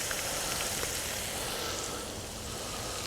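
Mushrooms with onions and parsley sautéing in a pan give off a steady, close, unbroken sizzle with faint crackles, and no one speaks.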